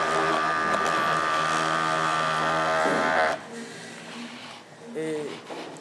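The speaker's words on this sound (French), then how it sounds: "Ça, c'est le mixeur." A homemade electric mixer runs with a steady, loud motor whine for about three seconds, then cuts off, leaving quieter handling noise and a brief voice.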